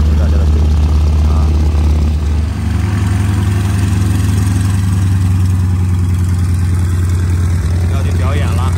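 Aircraft engines at the EAA AirVenture Oshkosh air show make a loud, steady droning hum that runs unbroken and close through the whole stretch.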